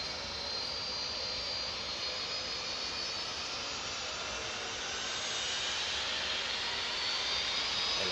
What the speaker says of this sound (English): One more plane.